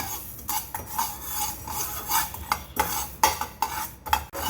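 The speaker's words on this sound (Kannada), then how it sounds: "ತೊಕ್ಕಿಗೆ ಮೆಂತ್ಯ ಹುರಿದು ಹಾಕ್ಕೋಬೇಕು." Fenugreek seeds are dry-roasted in a pan while a metal spoon stirs them, producing repeated close scraping strokes and light clinks against the pan over a faint sizzle.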